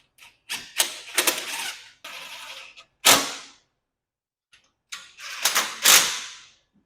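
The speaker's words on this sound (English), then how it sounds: "These here are going to be that 5/16 self-tapping screws going in." Several 5/16 self-tapping screws are driven in while a thermostat is fitted to an oven plate, heard as short, close bursts of whirring drive separated by silences, some runs stuttering and some ending in one hard burst.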